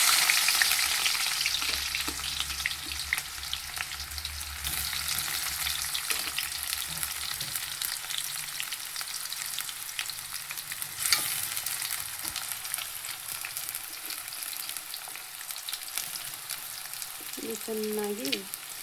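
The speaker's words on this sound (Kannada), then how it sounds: "ಈಗ ಎಣ್ಣೆ ಕಾದಿದೆ, ಈಗ ಈರುಳ್ಳಿ ಹಾಕ್ಕೊಳ್ತೀನಿ ನೋಡಿ." Chopped onions hit hot oil for a dal fry, letting out a loud, dense sizzle that settles into a continuous close crackle with occasional stirring scrapes; no voices.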